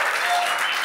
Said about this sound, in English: So on the count of three, clap, cheer, freak out.